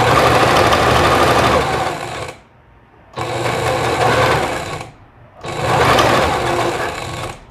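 Sewing machine stitching the lining of a flared tailored skirt, running in three steady bursts of close, loud whirring separated by brief pauses.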